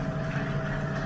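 A New Holland T7 tractor engine drones steadily under load while ploughing heavy ground, a loud, even low rumble heard close and alone with no talk.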